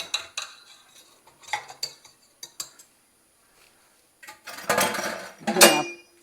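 Metal clinks and clatters as a stand mixer's whisk attachment is removed and swapped for the paddle, scattered sharp taps followed by a louder rattling burst near the end.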